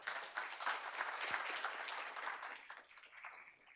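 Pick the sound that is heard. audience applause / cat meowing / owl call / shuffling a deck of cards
audience applause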